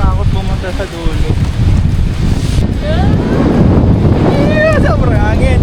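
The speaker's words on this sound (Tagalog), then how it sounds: "Sobrang hangin. Nakakatakot pumunta sa dulo." Strong wind buffeting a microphone on a boat at sea off Limasawa Island, a constant loud roar with rushing water and surf underneath while people talk throughout.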